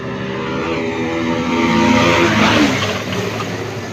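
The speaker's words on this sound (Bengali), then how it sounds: "ভাই এনএস ভার্সেস পালসার ভাই" Motorbikes, a Bajaj Pulsar NS and a Pulsar, rev loudly near a bridge, a sustained swelling engine roar that peaks midway and eases off, with no talk.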